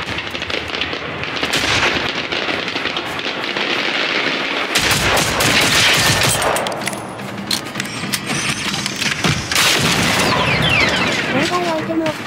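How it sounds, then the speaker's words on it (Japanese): Rapid bursts of handgun fire in the video game Generation Zero, repeated shots crackling over dense action sounds and noise, loud and busy throughout. "ハンドガンでめっちゃ撃ちにする"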